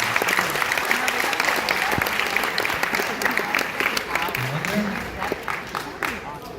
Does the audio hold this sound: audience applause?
yes